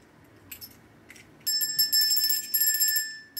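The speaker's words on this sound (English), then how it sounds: "But it is a bell. Christmas ornament." A small metal Christmas bell ornament, bought online as a gift, rings with a bright, thin jingle, first in a few faint taps and then in a sustained shaking run, close up in a quiet room.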